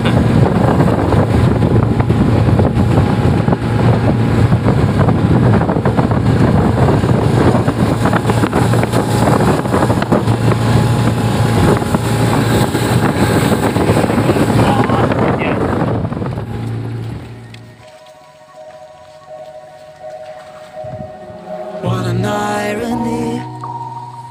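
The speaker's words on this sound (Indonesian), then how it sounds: "jadi speedboat kita pun tidak bisa melaju leper" A 40 hp speedboat roars along the Kapuas River, its loud engine drone and wind rush steady for about fifteen seconds before dropping away, leaving quieter water and tonal sounds near the end.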